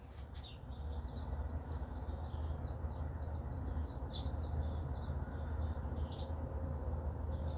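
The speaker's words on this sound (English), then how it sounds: "Those are the birds singing." Birds sing faintly in the distance, with scattered high chirps and short trills repeating throughout over a constant low rumbling background hum.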